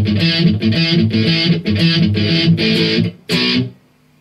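Distorted electric guitar plays the fill from a song as a run of chunky, rhythmic strummed chords, loud and close. The chords end with a short final stab and a brief ring-out.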